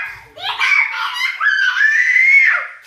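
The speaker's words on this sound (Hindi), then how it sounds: "अच्छा, ये कितना तेज चिल्ला रही है।" A young girl screams loudly and continuously in a high, piercing voice for nearly three seconds, close to the listener, with a brief break in the middle and no speech over it.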